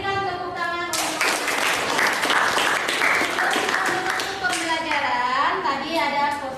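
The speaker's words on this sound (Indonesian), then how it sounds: "berikan tepuk tangan untuk" A school class gives a round of applause during a lesson, a dense patter of children's hands clapping for several seconds with voices speaking over it before and after.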